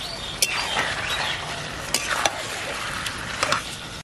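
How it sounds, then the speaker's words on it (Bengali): Chicken meat for a bari chicken dish is stirred in a pan, with a spoon scraping and clinking against the metal at uneven intervals over a soft, continuous sizzle. "মাংসটা এখন ভালো করে নাড়াচাড়া দিয়ে"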